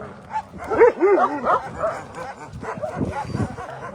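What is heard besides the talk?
dogs barking at the shelter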